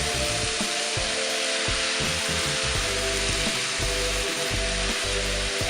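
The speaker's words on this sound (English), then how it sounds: "So now the vegetables are starting to sizzle, or they're sizzling." Vegetables sizzling in a pan, with a steady hiss running throughout and repeated low thumps and scraping, likely from stirring, close and moderately quiet with no talking.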